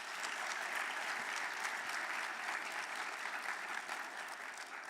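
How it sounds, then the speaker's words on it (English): Steady audience applause at a Martin Luther King Jr. Day event, a dense, even wash of clapping from a large crowd that holds at constant volume for the whole stretch without any voices. "So can we give them a round of applause?"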